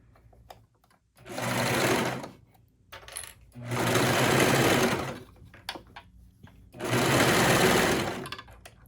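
A sewing machine stitches along the edge of leggings fabric in three bursts of rapid, close mechanical chatter, with quiet pauses and small clicks between runs.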